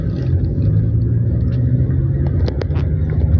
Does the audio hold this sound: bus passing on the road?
yes